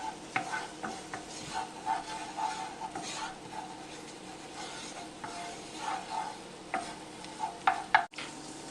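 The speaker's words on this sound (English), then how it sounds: "the shallots are pretty good now. They're starting to brown." Shallots sizzle in butter in a pan over medium-high heat, a close crackling fry broken up by repeated stirring scrapes and light utensil clinks.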